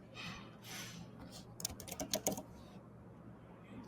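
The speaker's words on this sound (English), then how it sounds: "So he typed in all these job titles." Someone types job titles on a computer keyboard: a quick burst of crisp, close key clicks over a faint steady background hum, then quiet.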